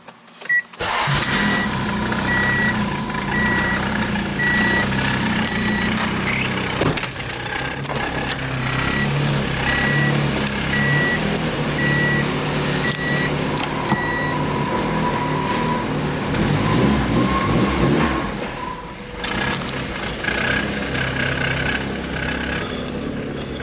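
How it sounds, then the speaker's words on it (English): An Acura Integra with a B16 engine and a push-start button idles while warming up, a continuous close engine rumble with a few brief mechanical shifts and clunks over roughly twenty seconds. "We're gonna let her warm up a little bit."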